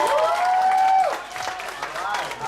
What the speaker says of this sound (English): Let's give a big applause to our only male speaker for tonight